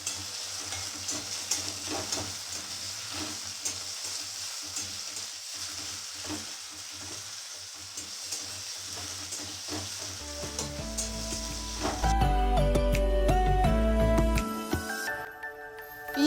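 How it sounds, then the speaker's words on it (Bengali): Chopped onions frying in hot oil for a Bengali green bean (borboti) mash, a steady loud sizzle with stirring scrapes, then a tonal electronic jingle takes over near the end. "এবার ওই তেলের মধ্যেই দিয়ে দেব কুচোনো পেঁয়াজগুলো। পেঁয়াজটা একটু লাল লাল করে ভেজে নেব।"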